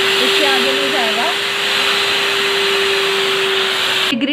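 A Eureka Forbes Euroclean WD X2 wet-dry vacuum cleaner runs with a loud, steady whooshing roar and a constant motor whine, then cuts off abruptly at the end; faint background voices and tones sit under it early on.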